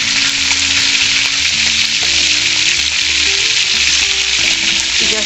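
Chicken wings browning in a hot frying pan with pepper and salt, giving a loud, steady sizzle that fills the whole stretch with no one talking.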